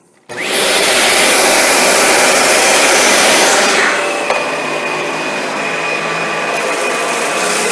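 A Dyson vacuum cleaner switches on abruptly and runs at a loud, steady whine close by, easing to a slightly lower, even drone after a few seconds.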